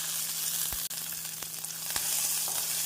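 Mustard seeds, cumin seeds and onions fry in hot oil, a steady bright sizzle broken by sharp little pops and crackles.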